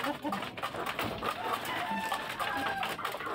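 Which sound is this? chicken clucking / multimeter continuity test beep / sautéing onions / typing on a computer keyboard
chicken clucking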